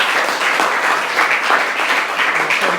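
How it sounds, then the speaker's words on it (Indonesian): A classroom audience applauds for a student named Ratna during a teaching-practice lesson, dense steady clapping from many hands filling the whole stretch at close range. "tepuk tangan dulu untuk Ratna."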